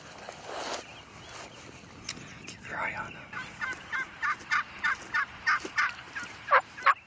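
Wild Michigan turkeys gobbling by a road, a run of rapid repeated gobbles coming in quick rhythmic bursts, fairly close and growing louder toward the end.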